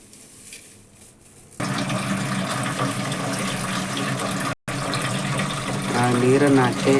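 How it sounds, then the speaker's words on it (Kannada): Water poured from a tap or jug over flattened rice (poha) set to soak in a home kitchen, a steady continuous splashing stream starting after a quiet second and running close and loud, briefly cutting out near the end. "ನೀರನ್ನು ಹಾಕಿ"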